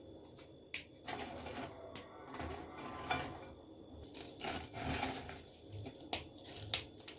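Biscuits snap and crumble into small pieces by hand for a cold summer dessert, a close, irregular series of dry cracks and crunches at a fairly low level.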